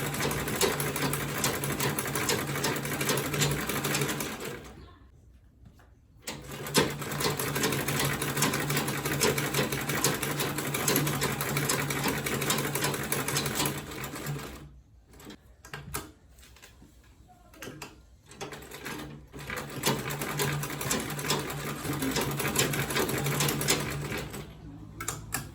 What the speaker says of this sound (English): I'm going to sew everything around now.